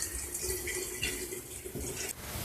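50:1 two-stroke fuel mix is poured into a Poulan P3314 chainsaw, a close, steady liquid trickle and gurgle with small splashy surges, no voices.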